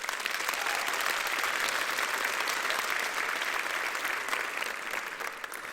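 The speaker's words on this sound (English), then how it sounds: "So please give yourselves a round of applause." Applause at a nursing graduates' pinning ceremony as families and friends are thanked, a full room clapping in a steady, dense wash that stays even and loud for several seconds before easing slightly.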